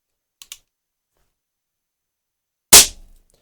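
Polikarpovich Flobert 4mm pistol fired with a moderator: two faint mechanical clicks, then one sharp, close, subdued shot with a short decaying tail.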